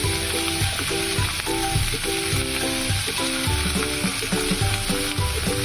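A spice paste of coconut, tomato and onion fries in hot oil with a steady, loud sizzle and crackle, while a spoon stirs it in regular scraping strokes against the pan.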